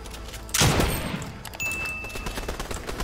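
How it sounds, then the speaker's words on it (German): Gunfire in the Fortnite video game, a sudden loud burst of shots that begins about half a second in and continues as a busy, overlapping exchange of fire through to the end. "Und jetzt schießen mich alle an."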